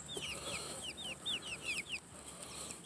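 Chickens clucking and chirping close by in a homestead brooder setting, a rapid run of short, high-pitched peeps and clucks over a steady background hum.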